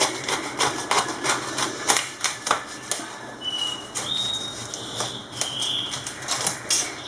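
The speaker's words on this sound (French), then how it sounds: "C'est la saison maintenant des artichauts, donc je vais couper." A knife cutting fresh artichokes for a veal tagine with peas, making a rapid, steady series of crisp chopping taps against a board, fairly close and with no voices.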